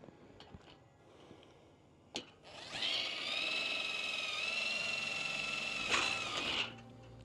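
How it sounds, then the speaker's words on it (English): A power drill runs steadily for about four seconds while working on a TimberTech vertical cable rail post, with a sharp tap just before it and a brief surge near the end. "So I'm going to drill a little closer inside here and a little bit outside here."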